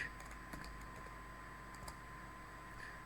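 Faint keyboard typing, a few sparse soft key clicks over a low steady hum, distant and quiet, no voices.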